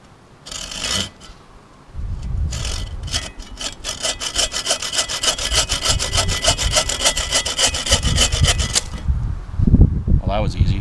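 A 15-inch Sven folding bow saw cuts through a small wood branch with rapid, rhythmic back-and-forth rasping strokes for several seconds, close and clear, with a brief voice and handling noise at the start and a knock as the cut ends.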